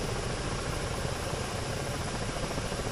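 Ka-50 Black Shark attack helicopter in the DCS simulator, settling into a slow daytime landing, its rotor and engine a dense, steady roar that stays loud and unchanging throughout.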